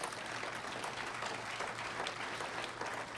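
An audience at a St Mark church 50th anniversary event claps steadily, a dense, even patter of many hands with light crowd murmur and no single voice standing out.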